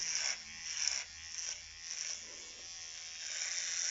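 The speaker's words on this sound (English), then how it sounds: "the battery of the trimmer seems to be holding up, thank goodness" An electric beard trimmer buzzes steadily and close by as it shaves around a moustache, its whine rising and dipping slightly as the blades press into the hair.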